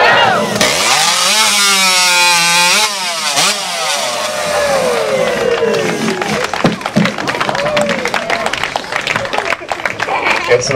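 A chainsaw revs loudly and bites into a log during a timber show race, its pitch rising and falling as it cuts, then giving way to crowd applause and voices.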